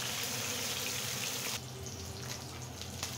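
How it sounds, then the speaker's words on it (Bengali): Powa fish sizzling as it fries in a pan for a sweet pumpkin fish recipe, a steady dense hiss that suddenly drops to a quieter, softer crackle partway through. "এখন আমি খুব সুন্দর করে এটা ফ্রাই করে নেব।"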